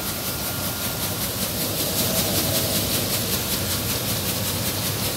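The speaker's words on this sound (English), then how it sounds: "This is the pre-cleaner machine." A Suri Engineers GCM00 grain cleaner, the pre-cleaner for a 5-ton-per-hour boiled rice mill handling paddy, runs with a loud, steady mechanical rumble and a rapid rhythmic rattling pulse throughout, no talk.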